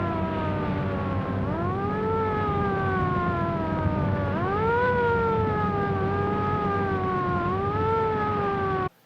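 Wailing siren of an ambulance in a 1931 film, rising and falling in long sweeping cycles, loud and steady throughout, with old soundtrack hiss underneath and no talk.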